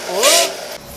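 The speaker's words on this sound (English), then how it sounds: "I'm just going to wire wheel it a bit." A wire wheel spun on corroded battery cable terminals of a 2000 Honda Insight: a brief, loud whirring burst that rises in pitch with gritty scraping, then winds down within a second.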